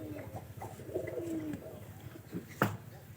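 Low throaty cooing from pigeons kept in a loft, several soft coos and a sharper call near the end, quiet and close.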